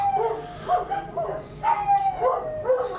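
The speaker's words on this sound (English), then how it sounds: "Sorry about the dogs, hopefully the microphone won't pick up too much of that noise" Dogs bark in a quick series of sharp yips, several bursts over a few seconds, fairly close with a steady background hum.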